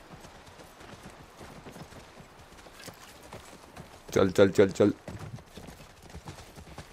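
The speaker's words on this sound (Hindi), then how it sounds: "ये देखो जंप देखो घोड़े का" Horse hooves clip-clopping in a rapid burst of galloping and a jump in The Last of Us Part 1 video game, loud and close, while someone talks and urges the horse on before and after.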